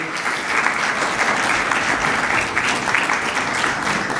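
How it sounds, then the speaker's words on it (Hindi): A congregation at a white gift Sunday church service claps as a candle is lit, a full, even round of applause that holds steady from start to finish with no voices over it. "अब तालियां बजाएंगे, अब खुशी का इजहार करेंगे जब डॉक्टर साहब ये शमा रोशन करते हैं"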